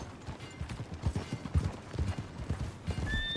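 Horse hooves clip-clop at a steady walking gait in the Red Dead Redemption 2 western game, a rhythmic close clatter over low ambient rumble, with a brief high tone near the end.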